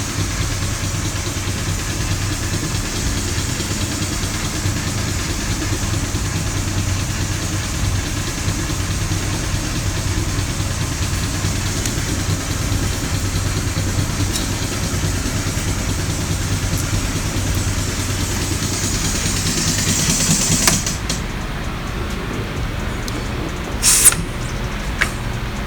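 A 2014 Ford Mustang engine idles steadily with a constant mid-pitched hum and light vibration, close by and alone, with a few brief knocks near the end.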